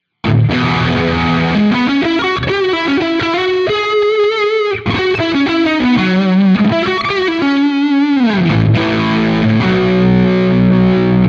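An electric guitar played through a fuzz tone with vibrato on a Quad Cortex, loud and thick, with sustained distorted notes and bends running continuously and a wavering, chorus-like shimmer.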